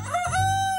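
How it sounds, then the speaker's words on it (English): A short, sharp rooster crow rings out close by, a single bright call held briefly with no voices. "Ah, it's a rooster."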